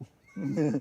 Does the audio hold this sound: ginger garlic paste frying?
no